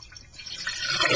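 A toilet flushes after its flapper valve lifts, with water rushing and swelling louder over about a second, heard up close.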